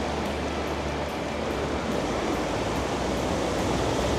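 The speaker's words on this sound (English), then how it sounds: "Beautiful water flow." Water flows steadily along a shore at sunset, a continuous dense rushing wash with no talk.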